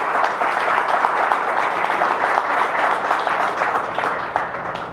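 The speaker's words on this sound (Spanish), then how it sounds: "un fuerte aplauso para todos ustedes que están aquí esta tarde" Sustained applause from a seminar audience, a steady dense wash of many hands clapping at moderate level for the full stretch with no voices over it.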